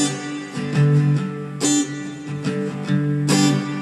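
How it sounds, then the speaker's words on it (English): Acoustic guitar strumming a Hindi song rhythm in which the second down stroke is muted, giving short percussive chucks between ringing chords; close, clear and unaccompanied by speech. "So all we are doing is we are muting the second down stroke"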